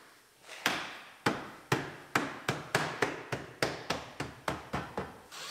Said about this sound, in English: Snap it all in.